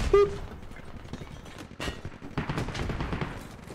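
During a squad match in a video game, a frag shell blast and a scatter of gunfire crack nearby, with sharp reports and rumbling bursts over a few seconds and no clear speech.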